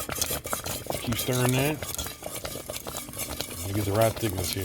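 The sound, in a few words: stirring a thickening sauce in a pot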